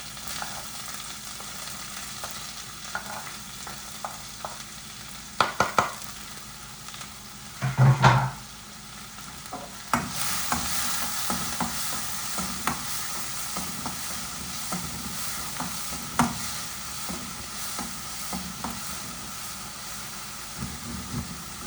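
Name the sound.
sautéing onion, green chilli and curry leaves in a pan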